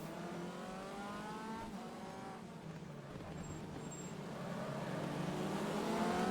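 An MCR race car engine in a racing game drones steadily nearby at Adelaide, swelling louder toward the end as another car runs alongside.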